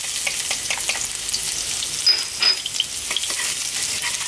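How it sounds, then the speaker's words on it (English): Garlic and ginger drop into hot sunflower oil in a wok over maximum heat, giving a loud, steady, crackling sizzle with a few sharper pops as they are stirred. "We're gonna drop in our garlic and ginger."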